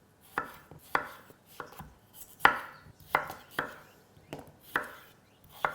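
A knife chops potatoes into chunky wedges on a board, giving about ten sharp, separate thuds at an uneven, unhurried pace, close and clear with no talking.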